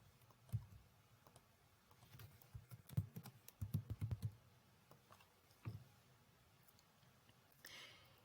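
An email address and password are typed on a computer keyboard: soft, irregular key clicks in short bursts, close but faint, with no voices.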